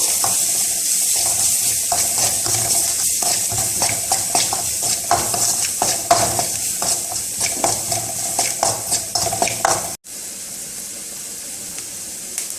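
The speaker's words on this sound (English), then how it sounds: "அப்புறம் நல்லா வதக்கிக்கணும்." Spices and dry mango powder are sautéed and stirred in a pan, giving a continuous close sizzle with repeated scraping strokes of a utensil, then a brief drop before the frying sound resumes.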